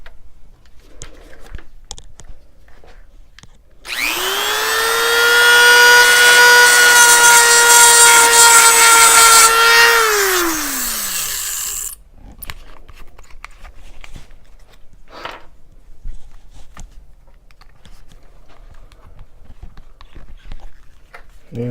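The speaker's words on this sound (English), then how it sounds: "And we'll get a little grind on here," A power grinder smooths a metal mount plate for a Barrett rifle project, spinning up with a loud high whine held for about six seconds before winding down and trailing off, close and alone.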